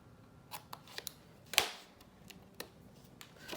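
Paper being cut with scissors to remove a corner piece for a folio craft project: a few soft, faint snips and clicks, with one sharper, louder cut in the middle, in an otherwise quiet room.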